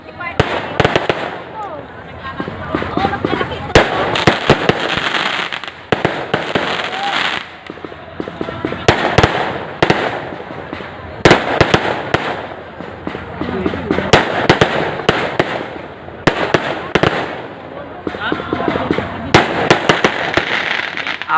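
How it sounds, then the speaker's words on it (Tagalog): Fireworks burst repeatedly at a nighttime political grand rally, sharp cracks and booms scattered irregularly over a long stretch amid crowd noise, with people talking throughout. "pagka ng ganitong fireworks, no? Parang nagiging bata ka muli."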